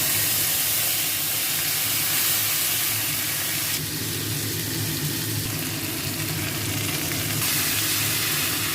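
Spice paste sizzling in hot oil with five-spice tempering while cooking bichi kola chechki, a dense continuous close frying hiss that holds steady throughout with no talking.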